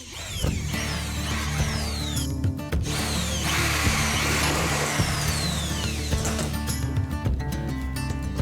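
A power drill drives small bolts to fasten a fabric strip onto a campervan roof, a loud, close whine that runs almost continuously, with brief stops and ratcheting clicks, and no talk.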